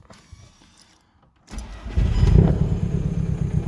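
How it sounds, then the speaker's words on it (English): A 2.0 TDI diesel engine in a VW Jetta Mk5 cranks and catches after a quiet moment, then settles into a loud, rough, steady idle close by. "a little bit loud when I start it up, like, 'cause it's obviously got straight through on it"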